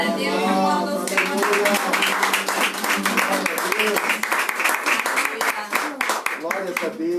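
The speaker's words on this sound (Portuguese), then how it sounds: "aplauda o Senhor" A church congregation claps along in worship, the rhythmic hand claps running under loud voices that sing and call out throughout, fairly close and full.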